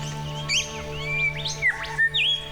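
A lyrebird mimics a kookaburra, giving a few sharp, rising and falling whistled notes over a steady hum, with no talk.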